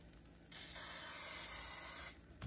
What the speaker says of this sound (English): It's easier when you spray it holding it up.